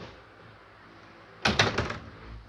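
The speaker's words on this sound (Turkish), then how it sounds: "Kapıyı kapatamadım." A door bangs with a sudden close thud in the middle of a video game session, followed by a brief rattling clatter that fades out.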